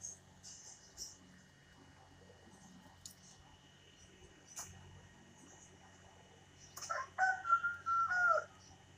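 A rooster crows loudly near the end, following quiet clucks and scattered clicks in a yard in East Java where a hobbyist keeps fine chickens and kentong pigeons.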